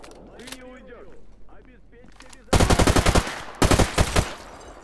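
Rapid automatic gunfire in the video game S.T.A.L.K.E.R. Gamma: two loud bursts of evenly spaced shots following quieter ambient game sounds and a faint voice.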